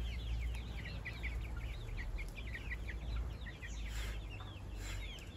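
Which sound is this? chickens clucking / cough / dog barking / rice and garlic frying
chickens clucking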